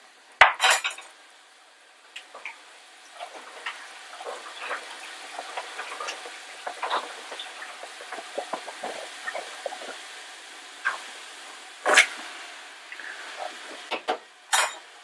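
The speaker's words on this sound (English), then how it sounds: "you're going to mix that around just to take the chill off of the celery" A utensil scrapes and clinks against a pot as celery is stirred into sautéing minced garlic and onions for Italian wedding soup, with scattered irregular knocks and a few louder scrapes, close by and without talk.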